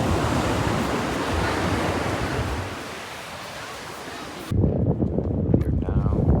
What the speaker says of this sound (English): the waves that might seem like every beach you've ever been to